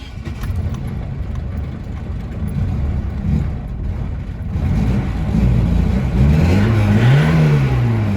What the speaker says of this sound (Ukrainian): Включаємо зажигання.